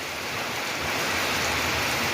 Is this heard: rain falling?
yes